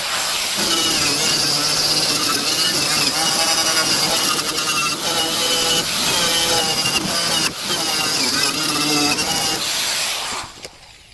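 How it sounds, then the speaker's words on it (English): A wire wheel on a power tool grinds rust off a 2006 Craftsman lawn tractor deck with a loud, steady, harsh whirring hiss and a whining tone, running continuously before cutting off near the end. "I might hit it with a wire wheel, knock some of that loose stuff off"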